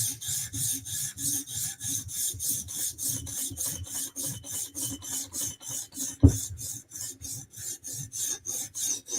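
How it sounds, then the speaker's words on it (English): Steady rhythmic rasping strokes of a custom knife bevel being sharpened, about three strokes per second, close and even, with one sharper knock partway through and no talk. "I just started sharpening the bevel."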